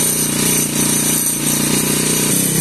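A 4-stroke stand-up scooter's small engine idles with a loud, buzzy, continuous rattle, close and steady throughout, with no talking.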